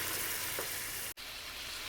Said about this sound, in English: You see the way that the tomato is frying in the oil?